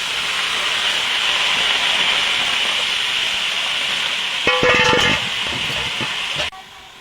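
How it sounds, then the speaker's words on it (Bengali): Leafy greens dropped into a hot wok, a steady loud steam hiss joined by a brief burst of rustling and clattering as the leaves go in, then a sharp drop in noise. "কড়াইতে শাকটা দিয়ে দেবো।"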